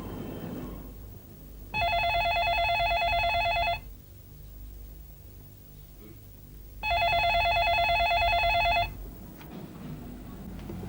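A telephone rings twice in a television drama scene, each ring lasting about two seconds with a pause between, over a faint room background.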